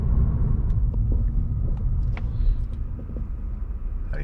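Steady low rumble of a Lexus car in motion, heard from inside the cabin, with faint road noise and small creaks throughout.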